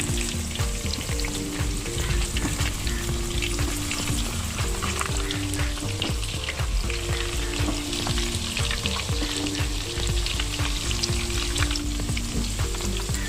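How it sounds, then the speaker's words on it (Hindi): Mutton pieces fry in hot oil in a pan for Kashmiri rogan josh, giving a steady, close, continuous sizzle and crackle with occasional stirring and no talk. "देखिए किस तरह से ये फ्राई हो गया।"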